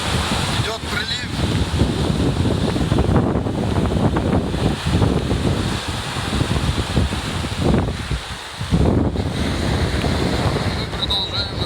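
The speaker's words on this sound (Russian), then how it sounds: "Бушует наш океан." Stormy ocean surf crashes onto the beach at Saint-Malo at high tide, heavy waves rolling in continuously under strong wind buffeting the microphone, loud and close.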